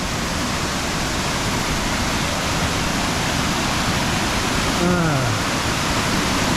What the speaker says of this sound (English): So here's the waterfall here. Coming down from what we saw earlier.